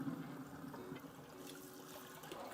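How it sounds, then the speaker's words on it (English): Water drains from a sink after soapy washing of SEGA Saturn console parts, a faint steady trickle and gurgle with a low hum underneath. "I'm going to drain the water here."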